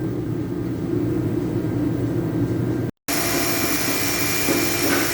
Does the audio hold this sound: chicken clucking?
no